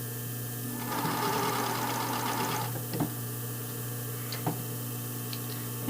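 A sewing machine stitches panty pattern pieces together in a short mechanical whirring burst near the start, followed by quieter ticks and clicks of fabric handling over a low steady hum.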